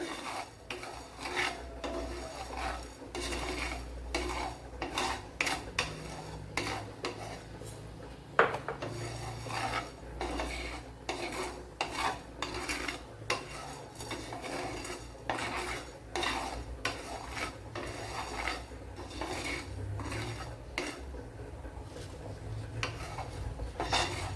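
Repeated scraping and rattling of a utensil stirring dry peppercorns around a pan as they roast, irregular strokes continuing steadily at close range.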